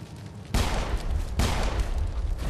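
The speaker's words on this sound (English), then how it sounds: "Why does he shoot twice?" Two loud gunshots in a Mass Effect execution, spaced under a second apart, each a sharp crack followed by a lingering, reverberant tail.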